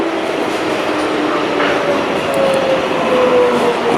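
A 7 local subway car rides along at rush hour in New York, a steady loud rumble of wheels and rail noise with a faint squeal rising near the end.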